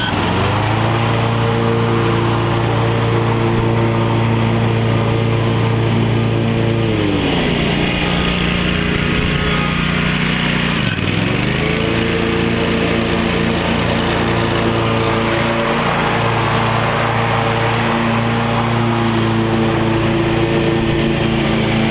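A Pro Stance stand-on lawn mower runs loud and close with sharpened blades, a steady engine drone that dips briefly around the middle as it works, cutting grass, alone without talk.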